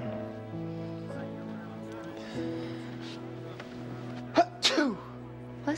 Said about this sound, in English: Ha-choo! Bless you.